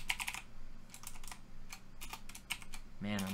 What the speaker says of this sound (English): typing too fast, I guess